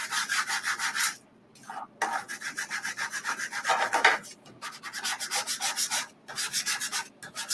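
A small scraper drags chalk paste off a stencil in quick, rhythmic rasping strokes, close and loud, in bursts with short pauses between them.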